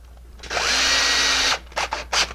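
Power drill driving a drywall screw, one steady close whine of about a second that stops abruptly, followed by a few short clicks and knocks.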